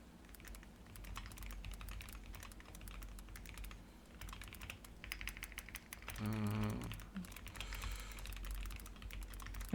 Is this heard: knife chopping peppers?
no